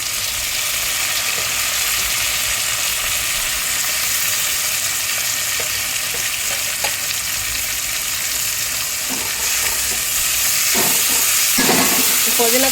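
Sliced onions and a handful of mint frying in a pan for a home-cooked prawn biryani, giving a loud, steady sizzle and hiss with occasional stirring scrapes toward the end.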